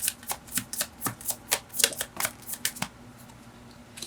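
Tarot cards are shuffled by hand in a quiet room, giving a quick rhythmic series of soft riffling flicks and slaps, about a dozen in a row, then a pause.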